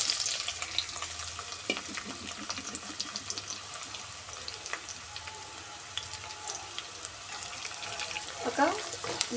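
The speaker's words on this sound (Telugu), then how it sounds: "ఒక బిగ్ సైజ్ ఆనియన్ తీసుకొని ఇలాగా ఒక 2-3 నిమిషాలు మనం ఫ్రై చేసుకుందామండి" A big onion fries in a few spoons of hot oil in a kadai for egg semiya: a steady crackling sizzle runs throughout, with occasional clinks and scrapes of a spoon, some louder near the end, and no talk.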